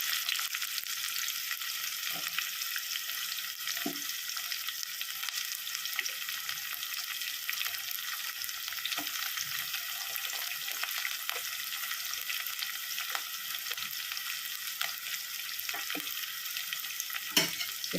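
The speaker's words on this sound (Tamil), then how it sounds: "வெங்காயம் போட்டு வெங்காயம் நல்லா வதங்கணும்." Onions sautéing in hot oil in a pan for an eggplant kara kuzhambu, a steady dense sizzle with occasional soft spoon stirs and scrapes, close and continuous with no talking.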